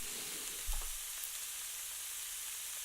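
Shredded cabbage sautéing in a pan, a soft continuous sizzle with one brief low thump of stirring near the start, no talking.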